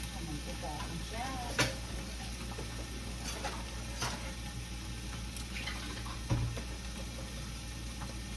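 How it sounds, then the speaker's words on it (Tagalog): Chicken frying in a pan gives a faint, steady sizzle with a few stirring clicks and scrapes, carrying on quietly throughout. "Iprito muna natin pa hanggang sa magkulay brown siya ng konti para lumabas ng lasa niya."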